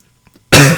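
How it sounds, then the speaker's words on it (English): One loud, harsh cough bursts out close to the microphone after a short stretch of near silence, then trails off. "I'm so sorry, I'm coughing."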